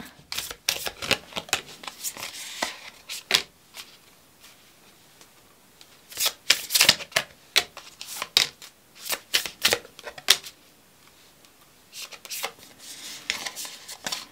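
A tarot deck is shuffled by hand close up, giving crisp papery riffling bursts that come in clusters, with brief pauses between rounds of shuffling.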